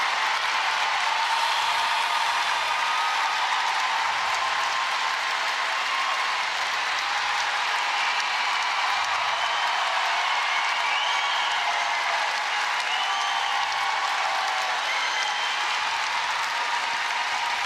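An arena crowd at the European Figure Skating Championships in Sheffield applauding a performance, with dense, continuous clapping that holds steady and loud throughout.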